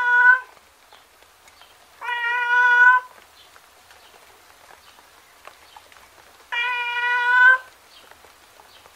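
A cat meows three times, each call drawn out and clear at close range, separated by long quiet pauses.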